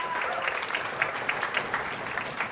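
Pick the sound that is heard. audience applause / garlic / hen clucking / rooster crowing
audience applause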